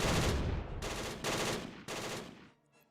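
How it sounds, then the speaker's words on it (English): Suppressive machine gun fire in Close Combat 3, with several sustained automatic bursts separated by short pauses, fairly faint and steady, ending in quiet. "We're just gonna put suppressive fire all over the area."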